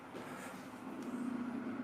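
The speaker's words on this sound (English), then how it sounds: "Oh, that's just a garbage truck." A garbage truck's engine idles and rumbles steadily nearby as it pulls up, a low droning hum with faint mechanical noise over a noisy street background.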